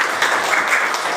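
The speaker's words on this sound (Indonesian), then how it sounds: "Tepuk tangan untuk Ronaldo" A classroom of students claps for a classmate, producing a brief burst of dense, close applause.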